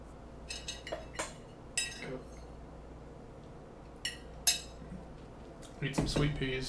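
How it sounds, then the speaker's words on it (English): Cutlery clinks against a can of sweet peas while someone eats, sharp metallic taps scattered every second or so over a steady low background hum, with a busier clatter at the end. "Eat some sweet peas."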